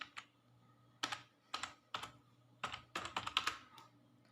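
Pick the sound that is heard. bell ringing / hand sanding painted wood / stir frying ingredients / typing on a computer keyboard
typing on a computer keyboard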